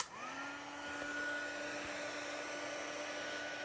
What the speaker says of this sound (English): heating tool. And you're going to see that once I start to heat up this embossing powder